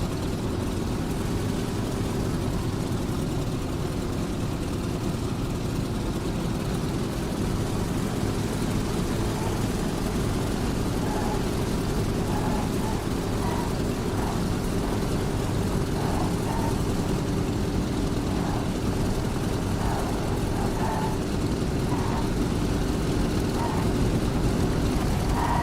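An F4U-1 Corsair's radial engine drones during takeoff in the combat flight simulator DCS, a heavy, steady, loud rumble sustained throughout with faint ticking above it.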